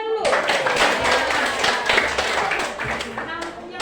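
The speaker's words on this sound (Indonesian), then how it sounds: "Oke, tepuk tangan dulu." A classroom group claps together in a dense, steady burst for about three seconds, fairly close, with voices mixed in and a teacher's voice at the start.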